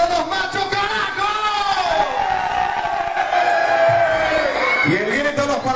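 Paraguayan fans shout and cheer on a Labour Day afternoon at a live concert at Finca Guaraní in Spain, a loud, sustained mass of yells and whoops that rises and falls.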